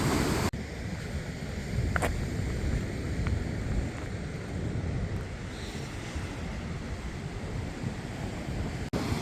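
Ocean surf on a Fuerteventura shore gives a continuous loud washing roar with wind buffeting the microphone and no speech.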